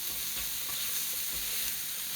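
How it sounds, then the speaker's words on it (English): Taco filling stirred in a hot pan, a steady sizzle and frying hiss with soft scraping strokes of the spoon repeating at an even pace, close and quiet, no talk. "I'm just going to put this in here and stir it up."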